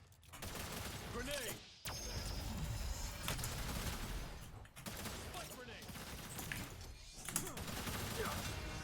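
Gunfire and explosions from a first-person shooter game, featuring a grenade blast amid a steady loud barrage of shots, with talk running over the action.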